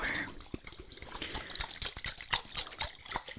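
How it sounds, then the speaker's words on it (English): Water sloshing inside a bottle shaken up and down for ASMR: quiet, close, rapid irregular splashes and gurgles in a steady run. "shake, so the water can like go up and down in the bottle"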